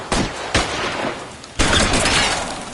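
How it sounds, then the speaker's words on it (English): Suppression gunfire in the video game LA Noire, a few loud sharp shots followed by a longer heavy burst of fire with breaking debris, close and forceful. "I'll lay down some suppression fire."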